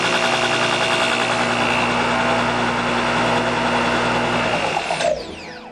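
A 2x72 Oregon Blade Maker belt grinder's electric motor runs at a steady, moderately loud hum with a high whine, then spins down near the end after being switched off.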